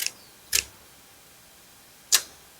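Three sharp, crisp snips of scissors cutting pandan leaves, widely spaced, each a short bright cut against a quiet room with no talking.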